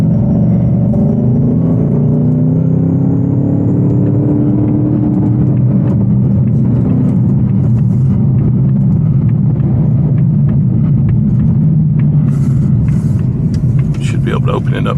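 An 810 hp Whipple-supercharged Shelby GT350 cruising on a road: a deep, steady engine rumble with rising and falling tones as it pulls, heard from inside the car, with people talking over it.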